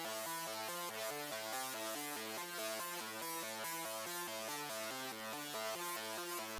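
Serum synth lead using the Rock Out preset from the Onyx Stylus bank plays a steady repeating pattern of bright, buzzy stacked notes, loud and continuous with no talking.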